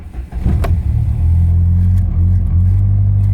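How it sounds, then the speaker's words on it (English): A car's engine starts on a repair bench with a power board fault under test: a brief crank burst, then a loud, steady low idle rumble that carries on to the end. "Gonna start the car."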